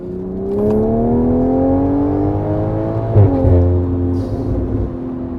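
A Toyota Supra with a stage 2 tune revs and accelerates hard, its engine note rising smoothly in pitch, briefly dipping at a gear change, then pulling on again, loud and close from inside the car.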